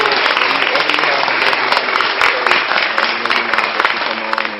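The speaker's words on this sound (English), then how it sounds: "Clap it up for you one more time" Audience applause from a crowd, a dense continuous wash of clapping that holds steady and loud for the whole stretch with a faint voice underneath.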